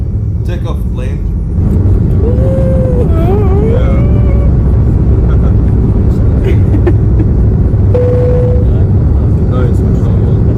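A loud, steady engine roar fills the cabin as an airplane accelerates down the runway past 80 knots in Thailand, with people talking and exclaiming over the noise.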